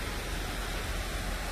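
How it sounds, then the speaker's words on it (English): A garden waterfall pours steadily, a dense, even rush of falling water heard alone from a short distance, with no voices over it. "They're walking on little stepping stones in front of the waterfall."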